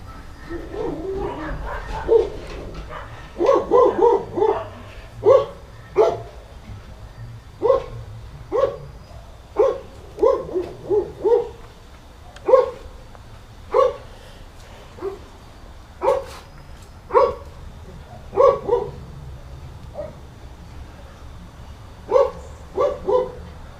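A dog barks over and over in short bursts, some single and some doubled, fairly close and loud, with no talking.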